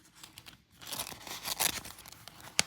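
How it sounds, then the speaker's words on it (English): A vellum cover crinkling and rustling as it is slid back into a paper cash envelope, close papery crackles with a sharp crisp snap at the end. "I got my little vellum cover. And I'm gonna put it back in my envelope."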